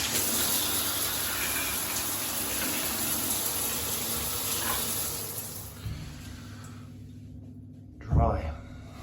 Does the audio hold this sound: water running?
yes